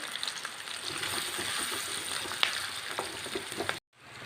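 Garlic and small green chillies fry in hot oil for a Kerala-style beef roast, giving a dense, even crackling sizzle that cuts off abruptly near the end.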